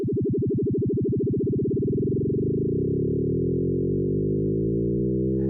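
A pure sine tone from an Omnisphere FM synth, first pulsing with fast vibrato-like beating, then smoothing into a steady tone as FM sidebands spread extra partials; clean, sustained and alone.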